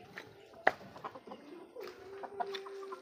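Hens on a small farm clucking softly, scattered low clucks and one sharp squawk near the start, fairly quiet with faint background noise.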